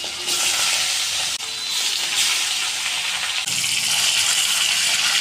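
Rohu fish fries in hot sunflower oil, a loud steady hiss and crackle that jumps in intensity a few times as each piece hits the pan.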